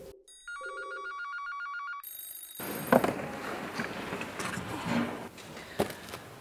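A telephone rings with a synthetic electronic ring pattern, a few clear bursts, then stops as busy ambient noise with clatter takes over.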